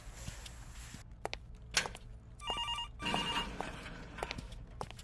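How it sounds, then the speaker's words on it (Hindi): A telephone rings in a scene from a Hindi drama film, with two short electronic trilling ring bursts in the middle. Scattered footsteps and light clatter come before and around the rings, and the background is quiet otherwise. "ये फोन भी इसी टाइम पे बजना था।"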